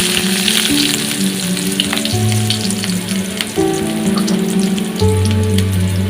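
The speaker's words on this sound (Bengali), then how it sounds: "আমাদের ডেচকি গরম হয়ে গেছে, এখন তেল দিয়ে দিলাম। পেঁয়াজ, রসুন, আদা দিয়ে দিলাম।" Onion, garlic and ginger fry in hot oil in a heated cooking pot, giving a steady, dense sizzle that holds throughout with little change and no talking.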